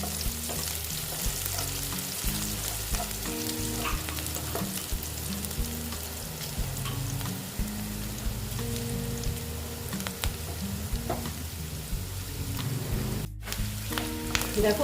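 Rohu fish pieces fry steadily in hot oil, a continuous dense sizzle with crackling pops that runs the whole time, close and fairly loud, with no talking.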